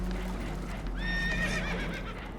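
A horse whinnies in Red Dead Redemption 2, a shrill wavering neigh over a steady low engine-like drone and game ambience, fairly close and clear.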